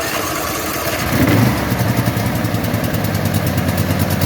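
Small lawn mower engine cranked on choke catches and settles into a steady, loud, slightly uneven idle with rapid chugging firing pulses, close up.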